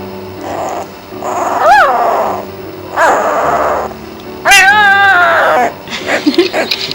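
A young Vizsla puppy lets out a string of close, high whines, yips and squeaky little howls with brief pauses between them, ending in short breathy snuffles.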